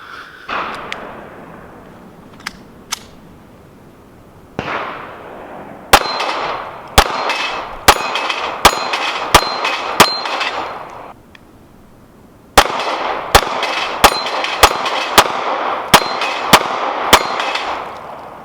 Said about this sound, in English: So let's do a little more shooting, huh?